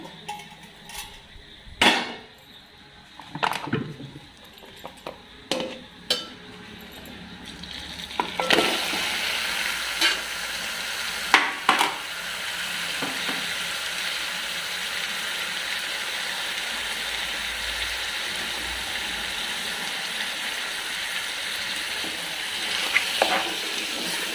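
Mutton frying in onion paste for a gravy curry is stirred in the pan, a steady sizzle rising after several scraping spoon strokes and knocks against the pot, with occasional clinks throughout.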